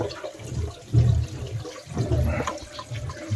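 Cold water runs from a kitchen tap in an old Irish farmhouse, a steady close gush with slight surges, no voices.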